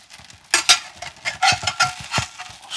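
A utensil scooping a cabbage omelette out of a pan onto a dish, a quick run of close scrapes and clinks against the pan with faint sizzling underneath, busy and uneven.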